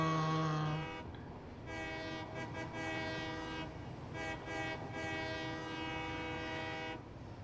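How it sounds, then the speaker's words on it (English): A locomotive horn in the video game Satisfactory blares in sustained, harmonically rich blasts, a short opening toot followed by long loud honks with brief gaps, over a steady rolling rail rumble. "And yes, you can honk the horn."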